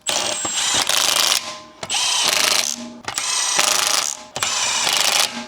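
A power tool whirs in four loud, sustained bursts with short gaps between, driving 19 mm lug nuts onto the wheel of a Honda CB7 Accord, close up and with no talking.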